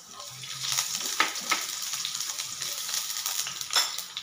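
Onion dropped into hot cooking oil for sautéed mustard greens sizzles steadily with crackling pops and a few stirring clinks, close and moderately loud with no talk.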